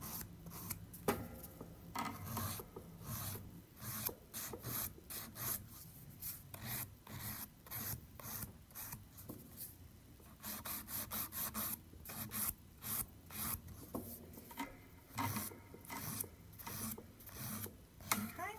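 A hand file rasps across the top of an acrylic nail from side to side, in a steady run of quick, close back-and-forth strokes, soft but clear, with no voices.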